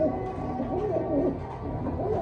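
Pigeon cooing at a market stall where birds are being sold, a steady close murmuring coo with soft wavering calls over a constant background hum, about two seconds long.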